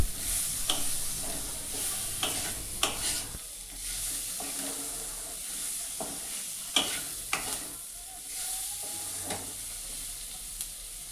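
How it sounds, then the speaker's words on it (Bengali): Chopped tomatoes cooking in a hot pan, sizzling steadily while a spoon stirs and scrapes with several distinct clinks and knocks, close and moderately loud, no talking. "কেটে রাখা টমেটোগুলোকে এর মধ্যে আমি ঢেলে দিলাম এবং ঢালার পরে এই জিনিসটাকে আরেকটু ভালো করে আমি এবার কুক করে নিচ্ছি"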